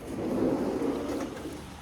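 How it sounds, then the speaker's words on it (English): Heavy rain pours down outside in a steady, dense wash of noise with a faint low rumble underneath, continuous and fairly loud throughout with no talking. "It's a lot of rain, and I'm about to go put our little friends out in this little rain shower."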